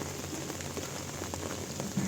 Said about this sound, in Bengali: এত বৃষ্টি হচ্ছে যে থামছে না